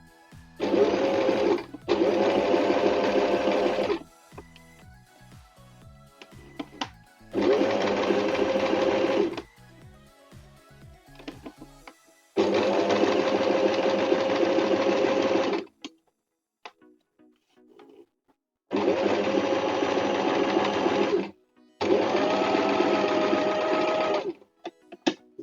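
A sewing machine stitches over a previous seam while sewing a semi-reducing bra, running in five loud bursts of several seconds each with quiet pauses and small clicks between them.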